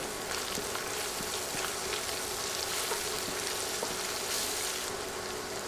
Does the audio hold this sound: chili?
yes